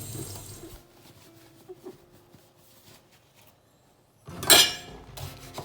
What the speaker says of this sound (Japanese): まずナスを洗いましょう。